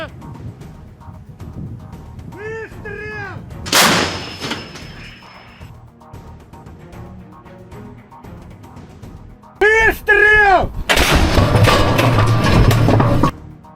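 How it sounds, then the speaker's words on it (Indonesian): Russian artillery fire and explosions striking a target in the Russia–Ukraine war, heard as a few heavy broadband blasts, a sharp one and then a longer roaring burst, with voices calling out in between. "dapat dilihat serangannya tepat mengenai sasaran hingga timbulkan ledakan dahsyat."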